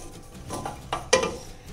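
A metal kadhai is set down on a gas stove burner in a home kitchen while dal makhani is being cooked, giving a single clear clank with a few lighter clinks of cookware before and after.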